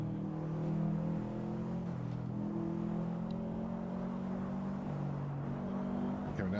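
A race car engine drones steadily in a racing video game, its harmonic whine shifting pitch as the car slows and pulls through a dip, loud and continuous with no talking.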